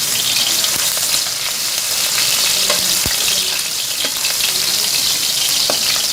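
Garlic paste sizzles and fries steadily in hot ghee in a pan, a dense continuous hiss with occasional pops and crackles, close and loud with no talking.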